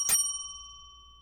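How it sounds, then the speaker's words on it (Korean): A single bright bell strike in a student debate contest, marking time for the speaker, rings out sharply and then fades with a long sustained tone; only one strike is evident rather than two. "3분이 지난 후 종소리 2회"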